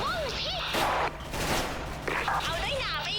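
Bursts of rapid AK-74 gunfire in the video game Special Force crackle in quick succession, mixed with game sound effects and a voice talking over them.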